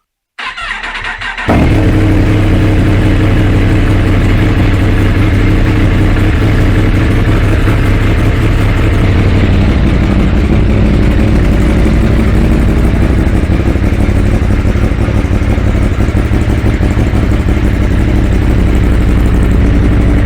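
A 2023 Yamaha MT10 motorcycle fitted with a Leovince midpipe decat exhaust fires up and settles into a loud, steady idle, its deep rumble close and continuous throughout.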